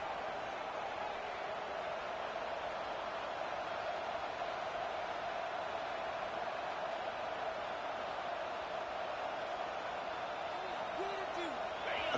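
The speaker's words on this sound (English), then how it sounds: "this crowd is fired up. Listen to this noise here." A steady, dense roar of a large stadium crowd cheering continuously in a college football video game, a broad wash of noise with a faint whistle near the end.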